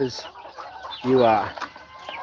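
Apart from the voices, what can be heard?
chickens clucking inside the chicken coop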